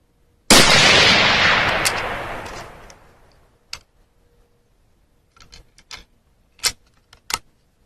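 A 6.5 Grendel rifle fires a single loud, sharp shot with 7.62x39 brass being fire-formed, loaded with IMR 4198 powder and a Winchester large rifle primer, and a long echoing decay follows. Several faint clicks and metallic ticks come after it.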